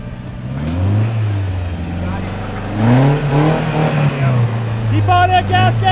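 A light Toyota offroad vehicle with a 4.7 transfer case gearbox and manual transmission climbs a rough trail at a Toyota Jamboree. Its engine rumbles and revs up close, under excited shouting from people on board.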